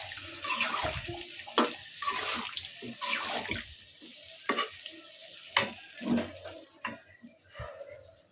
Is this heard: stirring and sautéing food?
yes